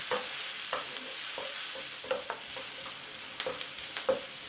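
Chopped onions with turmeric sizzle quietly in a pan while a spoon scrapes and stirs them in irregular strokes, with soft frying noise underneath and no voices.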